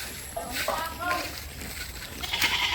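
A goat lets out a few short bleats nearby while a person talks over them, the calls breaking through intermittently against soft outdoor noise.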